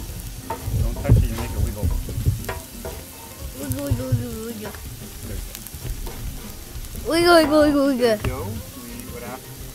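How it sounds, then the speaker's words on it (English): Garlic sautés in a pan for paella, with a steady frying sizzle and occasional stirring scrapes. People talk and laugh over the cooking. "Saute our garlic, right? Until it's slightly brown?"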